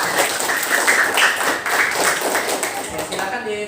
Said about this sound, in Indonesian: Tepuk tangan lagi untuk kelompok.